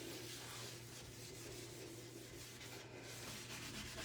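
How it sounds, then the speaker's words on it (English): Steady, faint rubbing and scrubbing on a porcelain sink, a continuous soft abrasive swish with no pauses and no talking. "All right, so we're just gonna scrub this all down."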